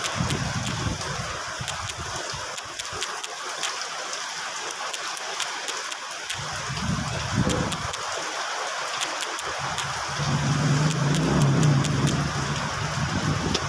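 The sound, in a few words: rain falling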